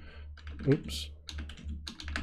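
Typing on a computer keyboard during ESP-IDF C++ programming work, a run of close, moderately loud key clicks with a brief voice exclaiming partway through.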